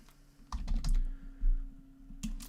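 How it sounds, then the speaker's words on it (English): Typing on a computer keyboard while searching a CRM form: a few irregular clusters of key clicks, close and clear over a low steady hum, with no voices. "You can start typing part of the name or key, couple key words here"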